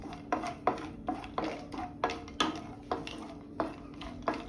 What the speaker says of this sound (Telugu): బ్రౌన్ కలర్ వచ్చేంత వరకు ఫ్రై చేసుకోవాలి